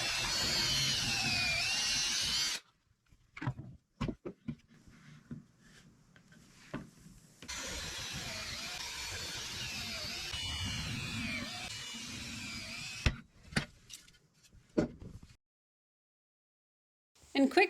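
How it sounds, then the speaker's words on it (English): A power drill bores into a 2x6 wood board at full speed in short bursts of steady whirring, separated by silences and clicks of handling, close and moderately loud. "full speed ahead before you go into your wood"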